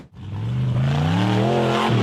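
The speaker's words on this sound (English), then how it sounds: "The gray tube frame buggy accelerated hard up the steep red dirt hill." A gray tube frame buggy accelerating hard up a steep red dirt hill, its engine rising into a loud, strained rev that climbs steadily in pitch with no talk over it.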